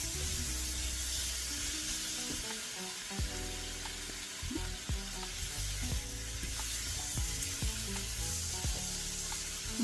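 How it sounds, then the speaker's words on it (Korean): Sausage stir-fry with a vegetable sauce sizzles steadily in a pan over reduced heat, a dense, continuous frying hiss with occasional soft stirring scrapes and pops, close and even throughout. "이 소스가 지글지글 이렇게 안에 끓고 있거든요."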